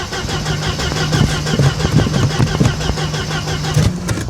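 A Mercedes 190E barn find cranks and catches, its engine sputtering into a loud, uneven run close by with a rhythmic starter churn and ragged firing throughout the few seconds.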